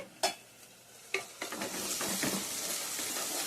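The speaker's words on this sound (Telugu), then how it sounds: "అల్లం వెల్లుల్లి పేస్ట్ వేగిపోయిందండి" Ginger garlic paste sizzles in hot oil with onions for chicken curry, a steady close frying hiss punctuated by a few sharp stirring scrapes that build into continuous crackling.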